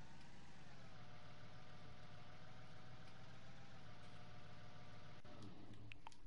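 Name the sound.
vehicle engine idling in a farming video game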